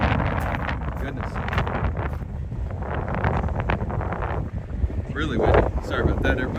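Strong gusts buffet the microphone outdoors in Lexington, Kentucky's Distillery District, a continuous low roaring rumble that swells and dips throughout and briefly surges louder near the end, with a voice faintly mixed in.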